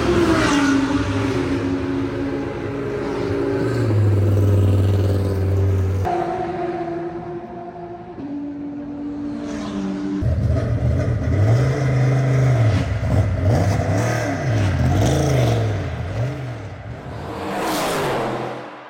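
A Ligier LMP3 race car with a 480 hp V8 and carbon body at Paul Ricard circuit roars loud and close, revving hard through repeated upshifts and downshifts with rising and falling engine pitch.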